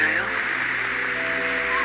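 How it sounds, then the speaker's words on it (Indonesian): Rain falls in a Korean drama scene as a steady, dense hiss of drops on surfaces. Faint tonal music runs underneath. "Dan seketika hujan pun turun di tempat itu."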